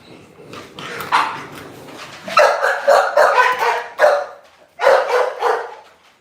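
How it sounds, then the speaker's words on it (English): Dogs being let out bark in bursts of loud, close, overlapping yips and barks that come in quick rhythmic clusters with brief pauses between. "Let me start letting these dogs out before they get on my nerves."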